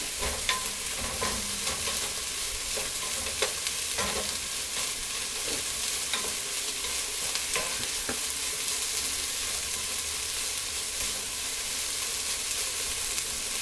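Onions sautéing and starting to brown in a pan give a steady, close sizzle with occasional sharp ticks and stirring scrapes, with no talk.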